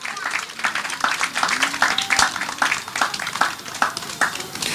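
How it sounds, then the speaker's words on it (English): Crowd applause at an outdoor Christmas tree lighting ceremony, a steady dense patter of many hands clapping throughout, with a voice briefly audible through it. "Give those sponsors a round of applause"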